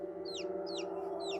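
A baby chick peeps three times, each a thin, high, falling chirp, spaced evenly over a steady low electrical hum.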